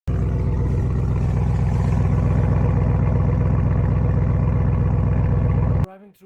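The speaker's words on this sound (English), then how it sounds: "Even in normal driving mode, the V8 immediately reminds you that this is not an ordinary SUV." A 2024 Audi RS Q8 V8 SUV runs in normal driving mode, its engine holding a steady, loud, deep droning rumble for about six seconds before abruptly cutting out.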